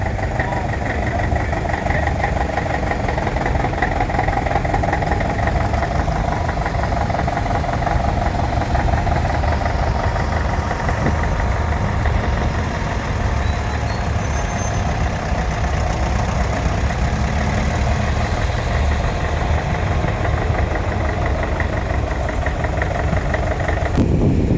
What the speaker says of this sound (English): These are big tractors for the day, big American.